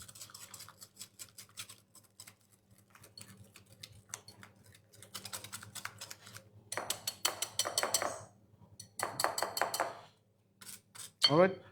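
Knafeh chocolate cheesecake mixture is stirred in a bowl, with rapid clinking and tapping of utensil on bowl in bursts that grow louder toward the end, while a voice talks briefly.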